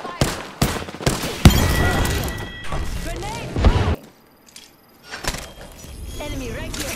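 Enemy gunfire in Apex Legends, rapid close bursts and sharp impacts early on, then quieter scattered shots, mixed with game effects and a player talking over parts of it.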